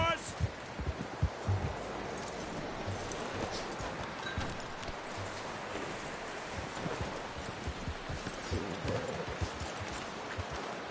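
Horse hooves clip-clopping in Red Dead Redemption 2 video game, a soft, steady walking rhythm over rustling ground and outdoor ambience, moderately near and fairly faint.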